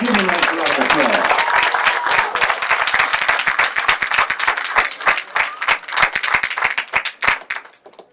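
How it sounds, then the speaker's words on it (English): A crowd at a girls' high school state bowling tournament in Ohio bursts into loud, sustained applause, dense clapping that thins into scattered claps over several seconds. "Give them a nice round of applause"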